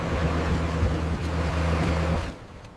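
A heavy compaction roller rumbles across a bridge section under construction, a loud, steady low engine drone with a faint rhythmic thump, close by, then cutting off near the end.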